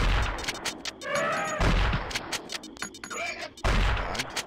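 Gunshots on a safari-themed video pinball table, a few bursts of booming electronic shots spaced across the moment amid chiming table effects, loud and close.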